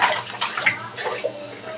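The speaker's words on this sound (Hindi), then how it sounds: "तो अच्छी तरह इसको धोते हैं ताकि इस गंदा ना रह जाए" Water from a tap splashes and gurgles as a parrot's bowl is rinsed clean, close and fairly loud in irregular bursts.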